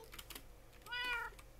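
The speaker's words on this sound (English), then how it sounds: "My cats are meowing, dear lord, in Minecraft" Minecraft cats meowing in-game, a clear harmonic meow rising and falling near the middle, with faint clicks of keyboard typing before it.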